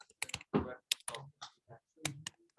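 Password being typed on a computer keyboard: a quick, irregular run of close, crisp key clicks in short bursts, with no talking.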